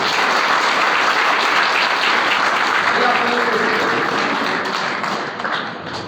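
An audience at a school annual results ceremony claps loudly and steadily throughout, a dense crackle that tapers slightly at the end, with a voice faintly underneath.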